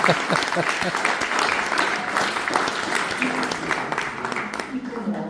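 Sustained audience applause fills a book presentation at Palazzo Candiani in Mestre, dense clapping from a room of listeners that carries on loudly throughout with little fading.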